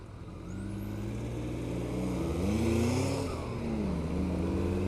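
Steady early-afternoon road traffic rumbles past, a continuous engine drone with swelling passes of cars and heavier vehicles, fairly close, with no talking.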